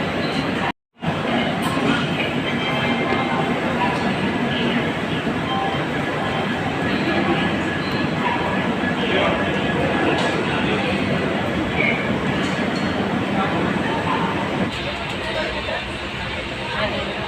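A steady, loud rumble of a train fills a railway station in Ujjain, continuous rolling noise with a brief dropout near the start, and voices in the background.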